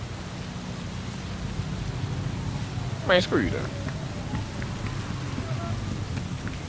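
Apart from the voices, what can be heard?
rain falling in video game Cyberpunk 2077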